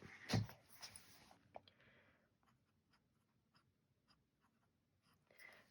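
A broad nib fountain pen scratches across paper in a few short strokes near the start, then fainter intermittent scratching over quiet room noise, close and soft with no talking.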